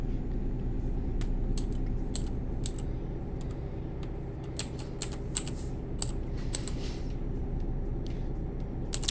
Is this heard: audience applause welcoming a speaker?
no